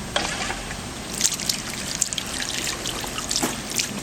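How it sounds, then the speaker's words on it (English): Water trickles and splashes steadily in a two-tier pineapple garden fountain, a continuous close-up patter with small irregular drips and splashes and no voices. "we're going to start running water on it."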